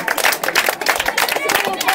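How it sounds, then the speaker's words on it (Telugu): Children clap together for a clay lamp just shaped on a pottery wheel, a dense, steady patter of many hands close by, with voices mixed in. "Give him claps."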